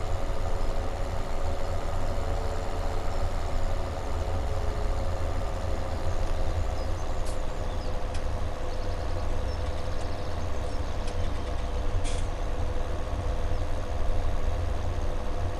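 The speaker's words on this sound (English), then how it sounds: "Could do with a bigger tractor really." A tractor engine in the Farming Simulator 17 video game runs steadily, a continuous loud low drone of idling and driving that holds an even level throughout, with no talking.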